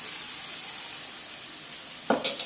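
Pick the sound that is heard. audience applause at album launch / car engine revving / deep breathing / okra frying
okra frying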